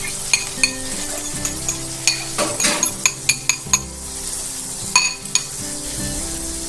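Eggs and diced onions hit a hot pan and sizzle steadily, with repeated metallic clinks and scrapes of a utensil against the pan, close and clear with no talking.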